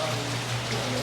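Heavy rain pours down around an outdoor cafe table in Canasvieiras, Florianópolis, a dense close patter of drops hitting surfaces over a low steady hum.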